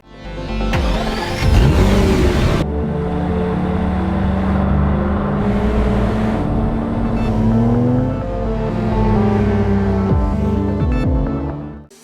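A twin-turbocharged 5.2-liter V12 Aston Martin DB11 in Need for Speed revs loudly and steadily for several seconds, its engine note climbing and dipping in pitch with no talking over it.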